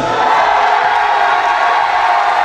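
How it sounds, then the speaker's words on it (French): An audience at a Miss Oise 2022 beauty pageant applauds and cheers a contestant, with loud, sustained clapping and whoops filling the hall throughout. "applaudissements pour Julie"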